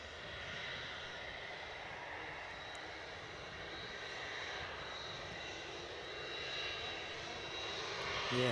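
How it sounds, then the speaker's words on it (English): An EasyJet airliner from Belfast approaches Edinburgh airport, its engines a broad steady roar that slowly grows louder as it nears, heard from outdoors at a distance. "Our EasyJet from Belfast continues to bear down on us."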